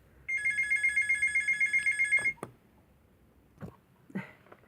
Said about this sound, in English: got a phone call in the middle